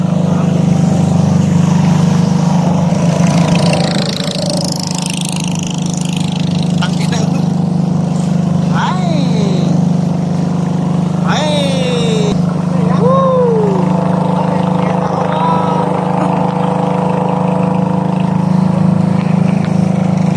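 A motorboat engine drones steadily and loudly on the water throughout, with faint voices and a few short whistling sounds over the constant hum.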